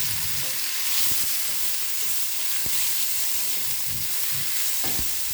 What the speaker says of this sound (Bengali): কালো জিরা তেলের মধ্যে হালকা ভেজে নিতে লাগবে